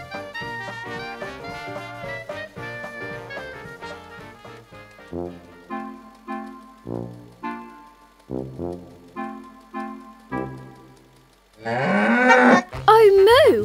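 A cartoon cow in a children's show lets out a sudden, loud, drawn-out moo with a rising and falling pitch, then a second shorter moo, right after a stretch of bouncy music.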